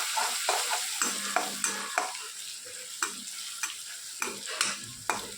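Spices are stirred and mixed into a gravy of chili powder, garam masala and salt in a pan: a gentle continuous sizzle broken by about a dozen rhythmic scraping strokes of a spoon, close and steady, with no voices.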